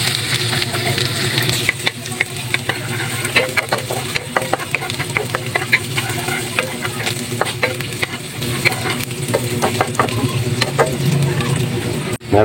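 Onions fry in a pan for ginisang alugbati with egg, making a loud, continuous sizzle close by, with frequent clicks and scrapes from stirring.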